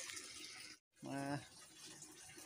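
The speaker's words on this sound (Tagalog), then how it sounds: "Ito dito po sa free flowing po ang tawag dito. Tuloy-tuloy po ang tubig yan." Water runs continuously from a free-flowing outdoor source on a farm, a steady faint rushing that breaks off for a moment while a voice speaks over it briefly.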